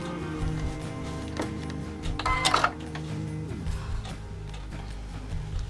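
A sewing machine stitches quilt block fabric for a Celtic Twist block: a steady, close mechanical hum with a fast underlying tick runs throughout, briefly louder near the middle, with no talking.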